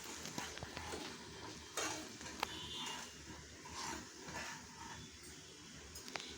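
A spoon stirs a ground pepper mixture into simmering rasam in a pot, with soft scraping and an occasional clink against the vessel under a low, steady background bubble.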